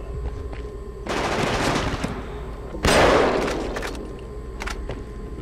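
Gunfire in the video game Killzone 2: a sustained automatic burst starting about a second in, then a louder, heavier blast or shot at the three-second mark that rings out and tails away, with no talk.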